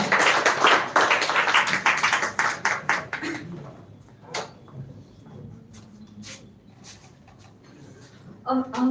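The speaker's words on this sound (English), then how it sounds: "Clap for her." An audience at a speech competition final claps for a contestant, a short burst of rapid clapping that thins out after about three seconds into scattered claps, with talking over the later part.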